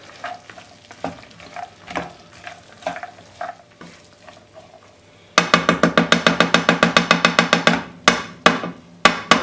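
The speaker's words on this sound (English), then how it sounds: "I'm going to mix the beans now around with the rest of the mixture." Beans being stirred into a chilli mixture in a pan, with soft scraping and gentle sizzling that give way to a rapid run of sharp, rhythmic clacks of the spoon against the pan.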